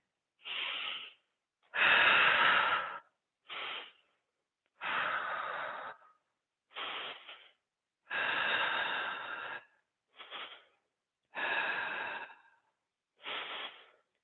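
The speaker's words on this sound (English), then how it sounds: "Breathe." Deep, slow breathing during a slow-flow yoga sequence: nine close, distinct breaths in and out, separated by short silences, each a soft airy rush with some nasal snort-like texture.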